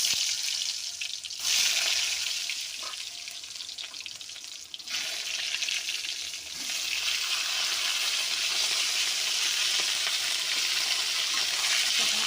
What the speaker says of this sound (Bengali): আমি প্রথমে সাদা তেল দিয়ে পটলগুলো ভেজে নেব